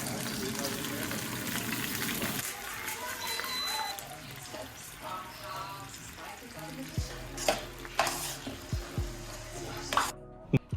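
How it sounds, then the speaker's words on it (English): Spinach and tomatoes sizzle and crackle in a hot sauté pan, a steady frying hiss with stirring scrapes and a few sharp clatters near the end. "I'm gonna saute down some spinach and some tomatoes"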